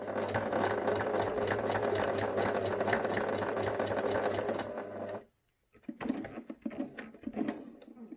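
A sewing machine runs a seam on a memory bear in a steady close whirr for about five seconds, then stops briefly and resumes in short uneven bursts.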